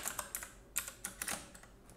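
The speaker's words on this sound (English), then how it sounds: "You know what, I'll just type it." Typing on a computer keyboard while writing a Visual Basic script on Windows, a quick irregular run of close, crisp key clicks heard alone.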